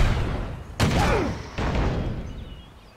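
Gunfire exchanged between soldiers and an enemy in the war game Act of War: High Treason, with two sharp loud bursts about a second apart, each followed by a long fading rumble under faint voices.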